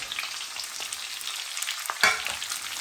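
Carrots and onions fry in hot oil, giving a steady bright hiss with faint stirring taps and one brief louder clatter, heard up close with no voices.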